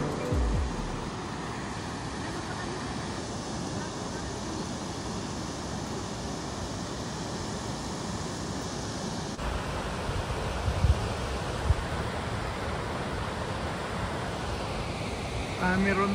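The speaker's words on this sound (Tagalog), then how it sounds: "Sa Cameron Falls." Cameron Falls in Canada gives a steady, broad roar of falling water that fills the whole scene without letting up, with slight wind buffeting on the microphone. A couple of faint knocks come through briefly.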